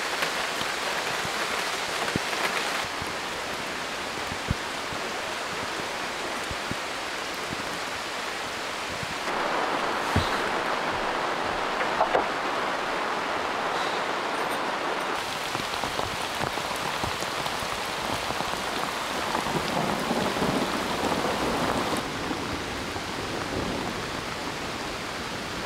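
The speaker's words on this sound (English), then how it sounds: "A lot of rain these days." Heavy rain in the Italian Alps pours steadily onto surfaces as a dense, even hiss of drops that keeps going the whole time, with no clear thunder standing out.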